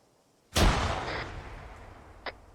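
A single loud gunshot in the military shooter game ArmA 3 cracks sharply and rolls into a long, fading echo, followed by a fainter distant report about two seconds later.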